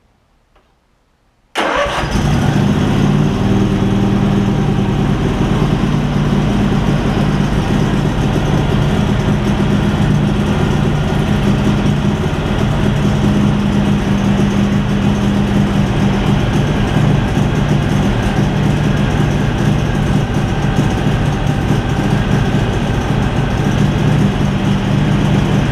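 Craftsman garden tractor engine, parked for three years, catches after a moment of quiet and then runs at a steady, close idle with a constant mechanical drone.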